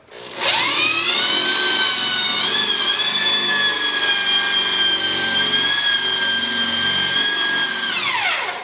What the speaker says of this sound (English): that way we can get 2 screws in going the opposite way